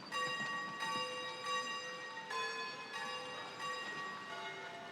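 Bell tower bells in the video game Foundation ring in a steady sequence of resonant chimes, each strike sustaining and overlapping the next, moderately loud with no talk.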